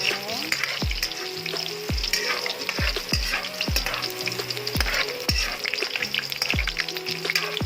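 Garlic, a single clove, sizzles in hot oil with a steady frying crackle, broken by regular bright clinks of a utensil against the pan, close and alone with no talking.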